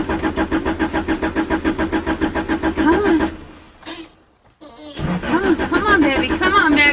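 A Honda car engine cranks over in a steady, rapid rhythm of starter pulses, goes quiet for a moment, then cranks again, loud and close.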